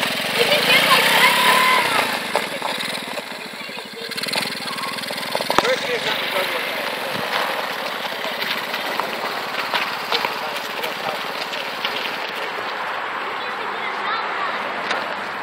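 A small motor vehicle engine revving on a first ride, with a steady mid-pitched drone that swells early and then holds at an even, fairly close level while people talk over it.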